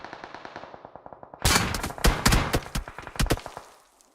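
Gunfire in PUBG Mobile during a competitive scrim match: a soft rapid burst of shots, then a loud close volley of sharp automatic cracks with a few spaced single shots trailing off.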